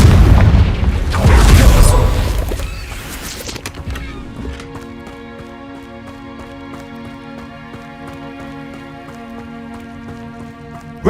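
A Confringo spell in Hogwarts Legacy detonates with a loud, booming blast in the first two seconds that fades into a lingering rumble, then gives way to sustained tonal game music.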